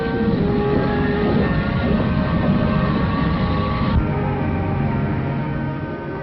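Train rolling through a rail yard toward a station in 1940s footage, a steady loud rumble of wheels and cars with a faint tonal hum, sustained throughout and easing slightly near the end.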